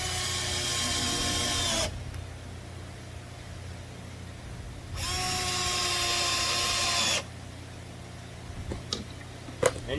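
A Bosch drill drives screws into a drawer front jig in two loud bursts of whirring, each spinning down at the end, with quieter shop noise and a few light clicks between them.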